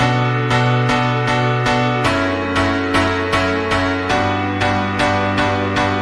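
Pianos play a steady repeated chord rhythm in a pop music production, evenly pulsing struck chords with shifting harmony, loud and full with no voices.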